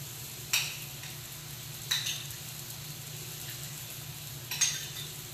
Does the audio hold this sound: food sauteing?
yes